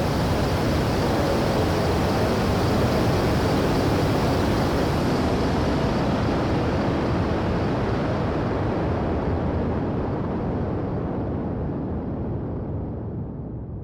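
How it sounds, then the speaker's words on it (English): A synthesized rocket launch effect built from dense, distorted roaring noise, loud and steady for most of its length, with the highs slowly rolling off toward the end as it fades a little, no voices. "We're looking at this rocket taking off. And let's kind of try to simulate that."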